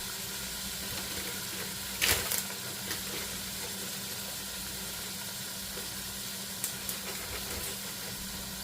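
A legume stew cooks in oil in a pot that is burning on the bottom, giving a faint, steady sizzle with a couple of light clinks.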